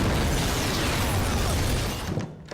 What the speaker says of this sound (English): And big explosions like Jason Bourne.